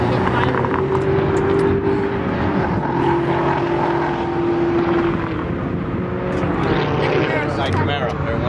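A Camaro drives past on a road, its engine a loud continuous roar with a steady droning tone that shifts pitch as it goes by, under ongoing street noise and people talking nearby.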